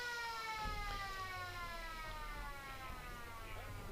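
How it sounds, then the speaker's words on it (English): An end-of-quarter siren sounds at a Riverina AFL football match, one long, steady, slightly falling wail heard at a distance over a low crowd murmur. "It's a kick to Sid White as the siren goes, and end of the quarter."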